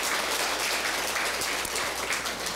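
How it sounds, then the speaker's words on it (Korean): An audience at a lecture claps in a continuous, fairly soft wash of applause that holds steady throughout and fades slightly near the end. "우리 박수 한번 해주세요"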